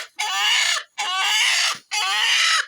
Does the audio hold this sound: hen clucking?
yes